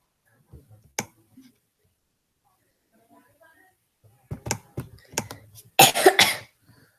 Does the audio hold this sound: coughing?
yes